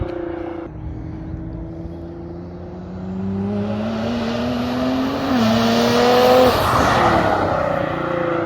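A Nissan GT-R engine, high-horsepower and all-wheel drive, revs and accelerates nearby, its pitch climbing through gears with a brief dip at an early shift, growing louder toward the end.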